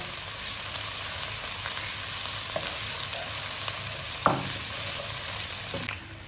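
Whole green chillies fry in hot oil for a bhindi gosht, giving a constant loud sizzle with a few utensil clicks and a scrape near the end.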